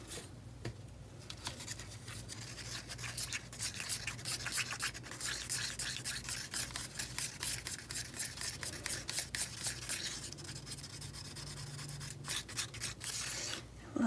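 Soft, steady rubbing and scraping from resin being mixed in a cup, with the sides and bottom scraped, continuing at close range and low volume throughout.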